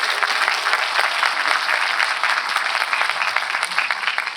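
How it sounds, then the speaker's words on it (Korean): A crowd applauds steadily for a visiting education superintendent at a school alumni talk concert, dense clapping filling the room at full volume from start to finish. "우리 교육감님 뜨거운 박수 한번 부탁드리겠습니다."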